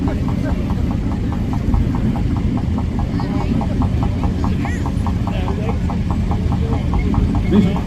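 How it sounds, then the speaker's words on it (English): Single-cylinder two-stroke diesel tractor engine at a steam show, running with a steady, rapid throbbing beat and constant low hum, close by and loud throughout with no pauses. "It is a 2-stroke diesel engine"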